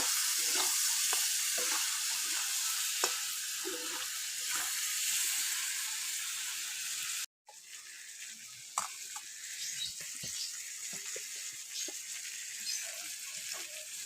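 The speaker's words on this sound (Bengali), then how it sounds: "আমি আলুটা চিংড়ি মাছটা ভালো করে একটু ভেজে নেব।" Potatoes and shrimp frying in a pan give a steady close sizzle throughout, cut by one brief pause midway, with light stirring clinks and scrapes over the hiss.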